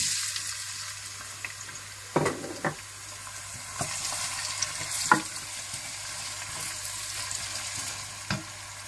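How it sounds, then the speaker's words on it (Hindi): Onions fry in hot ghee in a cooking pot, a continuous close sizzle and crackle with occasional stirring knocks and scrapes against the pot, and no talking. "ये घी हम फिर दोबारा एक देगचे में डालेंगे। अब इसमें प्याज डालेंगे,"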